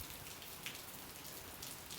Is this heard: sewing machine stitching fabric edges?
no